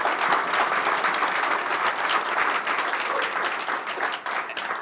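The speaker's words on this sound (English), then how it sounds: "Let's give Scott a round of applause." An audience at a forum gives a round of applause, a dense, steady burst of many hands clapping close by for several seconds before tapering slightly at the end.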